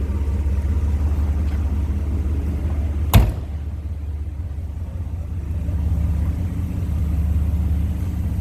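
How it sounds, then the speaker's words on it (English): The 3.8 liter engine of a 1983 Mercedes-Benz 380SL convertible idles, heard from behind the car as a steady low rumble, with one sharp knock partway through. "I want you to hear this car from behind"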